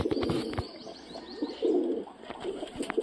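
Punjabi pigeons coo close by in rolling, throaty bursts, some nesting on eggs and others sitting with chicks, with a few light clicks and scuffles mixed in and no voices.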